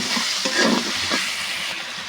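Cumin paste, ginger paste and garlic-onion paste frying in a pan for chicken curry, a loud continuous sizzle with soft stirring scrapes, close and alone without talk.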